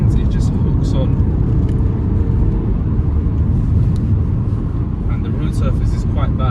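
A BMW 330d F30 diesel engine pulls hard toward its 5,000 rpm limit while driving through long winding bends on a rough road surface. It makes a loud, steady, close rumble that runs throughout with no break.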